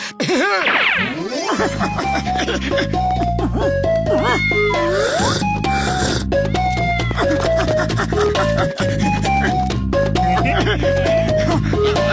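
A cartoon kitten gives a short, high meow near the start, set against loud, continuous background music that carries on throughout.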